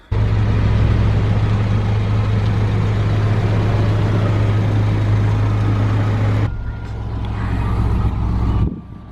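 A JDM car running on a test drive gives a loud, steady low engine hum with road noise. It cuts abruptly to a quieter stretch, then briefly resumes.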